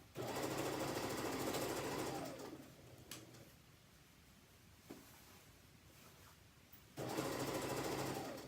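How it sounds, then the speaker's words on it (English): A sewing machine runs steadily while stitching a straight seam on a fitted crib sheet, stopping for a few quiet seconds with small clicks, then starting up again close and loud. "then just sew 1 more seam straight down"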